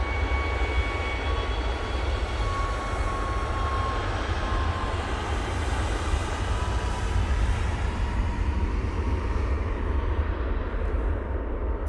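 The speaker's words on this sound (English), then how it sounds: "Ryanair, now on the roll, using 737 MAX 8." A Ryanair Boeing 737 MAX 8 rolls for takeoff at a snowy Manchester Airport, with a steady, broad jet engine roar that holds loud and constant throughout, with no voices.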